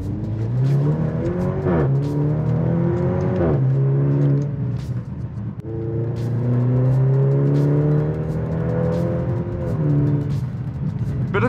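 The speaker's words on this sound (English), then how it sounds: "it doesn't completely let you down with the rev notes." A 2023 Maserati Grecale Modena engine revs repeatedly as the SUV accelerates, its loud, close note climbing through several gears with brief dips at each shift and steady road roar underneath.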